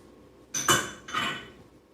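A hen's egg cracked against a bowl while making sourdough banana bread, two quick sharp knocks close by, the second softer and trailing, in a quiet kitchen.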